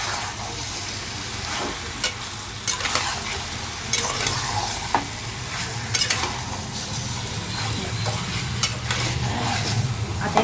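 Chicken curry with turmeric and coriander being stirred in a pan, steady sizzling frying under repeated scraping strokes of a spoon, a few sharper clinks standing out, close and fairly loud with no talking.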